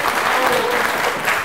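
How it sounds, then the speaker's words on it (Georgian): Steady, dense applause from a studio audience at a televised student quiz final, rewarding a contestant's correct answers; the clapping is loud and continuous throughout with no break. "აპლოდისმენტები მას"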